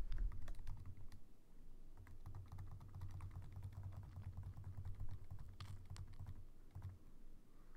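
Rapid clicking keystrokes on a computer keyboard as answers are typed in, a close, continuous tapping with a low hum beneath and no talking.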